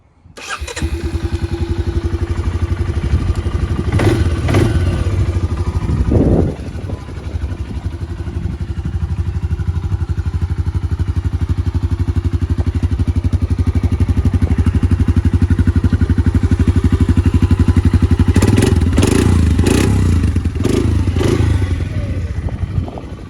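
A 2022 Suzuki King Quad 400 ASi ATV engine cranks and catches, then idles with a steady, loud, close rumble, briefly revving near the start and again toward the end.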